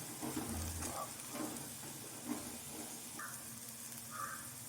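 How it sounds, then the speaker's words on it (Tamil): Prawns stir-fried with onions for a loose prawns starter give a quiet, steady sizzle with occasional soft scrapes of stirring, close but faint, with no voices. "இப்போது ப்ரான் சேர்த்து சும்மா 1 மினிட் கிண்டி விட்டால் போதும்."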